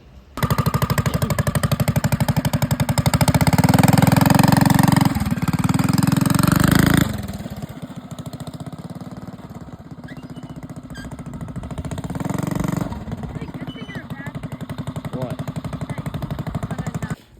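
A mini bike engine fitted with a torque converter runs loud and close, a rapid mechanical chatter that revs up and then settles into a lower idle, with rattling throughout.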